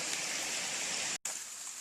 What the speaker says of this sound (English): look at the creek, and you can hear it from the roadway here